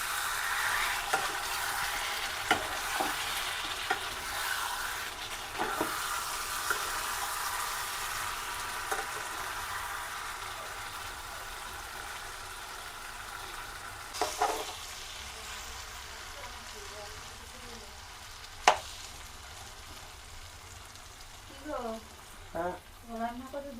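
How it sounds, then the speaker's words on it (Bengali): Chicken curry pieces sautéed and stirred in oil in a pan, a steady soft sizzle with scattered scraping spoon clicks, while a voice talks briefly near the end. "এই যে চলছে কষানো"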